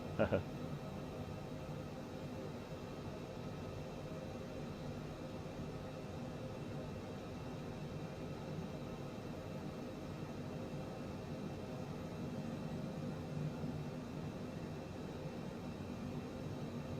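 Private jet engine in Microsoft Flight Simulator 2020 on a flight from Tampa to Atlanta, a steady, broad roar holding constant throughout, with brief knocks at the start.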